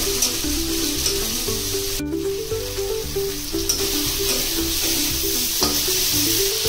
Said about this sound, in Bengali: ভালো করে ফ্রাই করে নেবেন